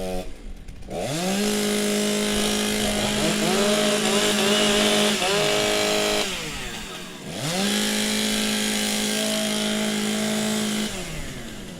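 STIHL chainsaws rev loudly at a timbersports championship, engines climbing and holding at high pitch, dropping briefly, then revving again in long bursts as competitors warm up their saws.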